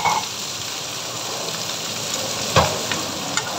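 Fresh mushrooms and Baguio beans sauté in a hot pan, giving a steady close sizzle with a few sharp clicks from stirring, and no voices.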